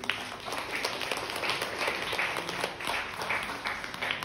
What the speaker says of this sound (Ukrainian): Аплодуйте собі!